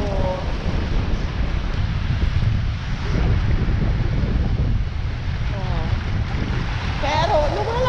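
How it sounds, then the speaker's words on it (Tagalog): Waves surge on a shallow sandy beach in Canada under strong wind, a loud continuous rumble with gusting microphone buffeting, while faint voices come through near the end. "pero lumalakas yung alon"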